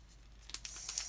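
Scissors snip open a Pokémon Battle Styles booster pack: a brief, soft cluster of crisp cutting and foil-crinkling sounds, close and quiet, with no talking.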